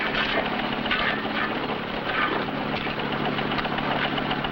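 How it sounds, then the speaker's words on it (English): A steady engine idles throughout in a 1951 film, a low continuous rumble with a faint rhythmic knock, fairly close and unchanging. "Cut that engine."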